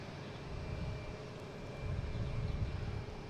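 A JetBlue airliner takes off at Boston Logan International Airport, a distant, faint, steady engine rumble with a thin tonal whine that swells slightly as it goes.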